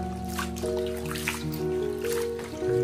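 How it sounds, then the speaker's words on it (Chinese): Lettuce being rinsed by hand in a basin of water, steady close trickling and sloshing with light splashes throughout, alone without talk. "再放到盆里面再一次给它清洗一下"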